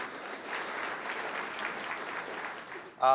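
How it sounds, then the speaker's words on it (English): Steady crowd applause at a civic state-of-the-city address, a continuous soft wash of many hands clapping at moderate distance, fading near the end as a voice cuts in. "Get a round of applause for all of the business owners."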